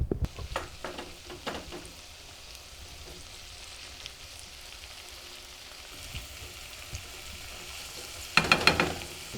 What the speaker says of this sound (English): We're going to fry the mushrooms and the onions that I had chopped up.